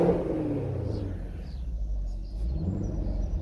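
A 2020 Chevrolet Camaro SS V8 in tour mode with its exhaust valves closed gives a low, muffled rumble and a mild rev that swells and settles, heard nearby with no talking.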